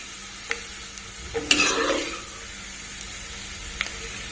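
Ivy gourd (dondakaya) pieces frying in oil as they are stirred, a soft steady sizzle with a brief louder scrape and rustle of the spoon midway, no talking.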